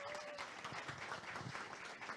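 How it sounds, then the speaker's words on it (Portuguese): Applause from the audience at a formal legislative ceremony, a quiet, somewhat distant patter of many hands clapping briefly in a large hall. "registrar a presença do deputado Max Maciel, a quem eu peço uma salva de palmas"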